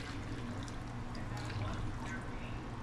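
Broth pours steadily over udon noodles for a shrimp tempura udon, a soft continuous liquid splash close by over kitchen background noise.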